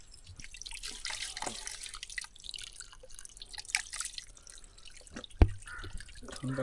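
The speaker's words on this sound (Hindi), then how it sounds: "यहाँ पे मिला हमें पानी का चश्मा" Cold, clear spring water trickles from a mountain source along a forest trek near Abbottabad, with soft irregular drips and splashes close by and one sharper plop, quiet between the drops.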